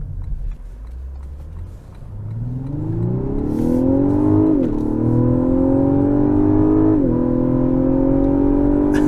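A 2023 Lexus LS 500 with a 10-speed automatic accelerates hard, its engine note climbing steadily, dipping briefly at two upshifts and rising again, loud and close inside the cabin with no talk.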